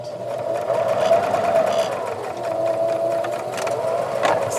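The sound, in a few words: sewing machine stitching a zipper pouch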